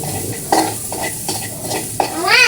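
Garlic and onion sauté in a pan as a utensil stirs and scrapes in quick, irregular strokes over a soft, steady sizzle. The sound is close and moderately loud.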